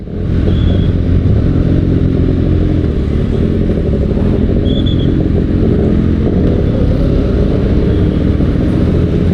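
Kawasaki Ninja ZX-6R motorcycle ridden on a road in Thailand, a loud, continuous engine drone mixed with steady wind roar, close and unbroken throughout.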